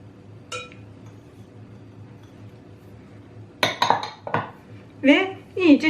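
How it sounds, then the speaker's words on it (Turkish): Two glassfuls of granulated sugar are poured from a drinking glass into a bowl of four eggs, giving a short, close rush of grains with clinks of glass against the bowl after a quiet start. "İki su bardağı toz şekerimi ilave ediyorum."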